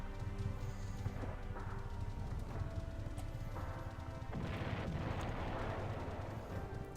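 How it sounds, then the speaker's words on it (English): Dense in-game explosion and crashing din from a fantasy action game, a sustained loud rumble with bursts of impact noise and no speech. "Explosion."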